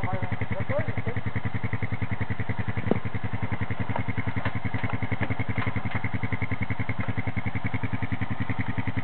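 A trail motorcycle idles on a muddy off-road trail with a steady, pulsing engine throb close by, a few clanks and knocks over it, while people talk nearby.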